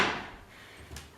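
A kitchen cupboard door opens in a quiet room, giving one soft wooden creak and rustle and then a short knock near the end, heard close with no talk over it.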